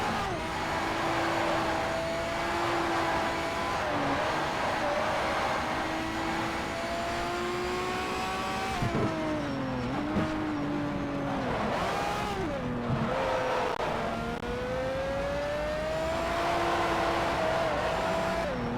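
A Pagani Zonda R race car in Need for Speed: Shift on PS3, its engine droning steadily loud and close, pitch sweeping up and dropping sharply through gear changes and braking, mostly alone with a few faint words.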